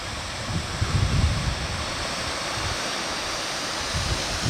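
Steady rushing of water over Leichhardt Falls at low flow, a constant broadband roar with no voices.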